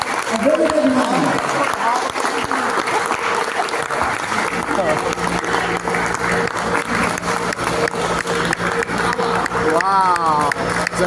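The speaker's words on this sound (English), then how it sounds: "So a big hand and a big applause to Hyundai Toyota Electric and the speaker Ultimate" Audience applause at the unveiling of a Hyundai Creta EV keeps up a loud, sustained rattle of many hands, with crowd noise and a presenter's voice speaking over it near the start and end.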